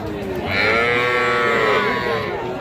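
A young calf at a cattle market lets out one long, loud moo that swells and holds for about two seconds, close by, with no talking.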